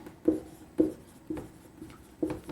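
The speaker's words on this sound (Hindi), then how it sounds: "देखिए मैं एक सेंटेंस लिखता हूं।" Marker or chalk strokes on a classroom board as a sentence is written, four short scratchy taps spaced about half a second apart, close and fairly quiet with no voice.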